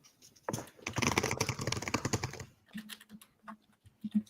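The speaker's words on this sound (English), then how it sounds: "I hear typing." Rapid typing on a computer keyboard, dense and steady for about two seconds in the middle, then a few sparse clicks with faint background tones toward the end.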